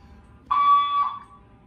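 A single loud electronic fire alarm beep sounds, a shrill steady tone lasting about half a second against quiet background.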